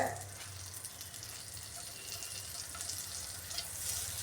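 Egg bread sandwich frying in butter on a low flame, giving a soft, steady sizzle and light crackle that stays fairly quiet throughout with no talking.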